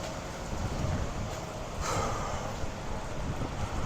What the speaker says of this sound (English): so it's really windy, man.